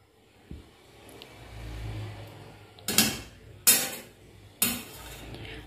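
A spoon clinks three times against a hot kadhai as two spoonfuls of ghee go in for sweet potato kheer, each knock sharp and bright over a quiet kitchen hum.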